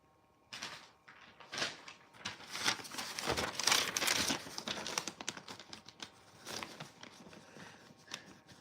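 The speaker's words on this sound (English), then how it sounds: "Give me that piece of paper." A sheet of paper is crumpled and handled at close range, giving irregular crinkling rustles in uneven bursts over several seconds, loudest in the middle, with no talking.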